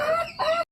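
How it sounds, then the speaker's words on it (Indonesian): Chickens cluck close by on a livestock farm as they are about to be fed rice, a short run of steady, bright clucking calls that ends abruptly in silence. "Nah, ini ayamnya guys ya."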